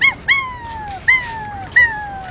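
Someone imitates a dog by whistling, giving four short, evenly spaced whistled yelps that each slide downward, close and clear with no speech.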